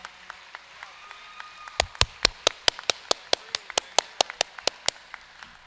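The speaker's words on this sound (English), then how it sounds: "So can we also give them a big round of applause again?" A high school graduate awards audience gives a round of applause, beginning with a few scattered claps that swell into a series of sharp, distinct hand claps, fairly close and spaced unevenly, with no talking.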